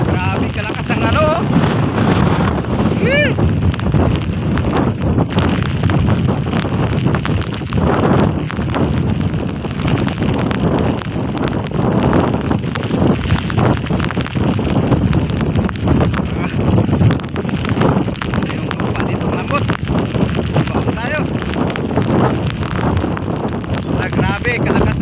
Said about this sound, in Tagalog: Grabe, kalakas ng hangin oh.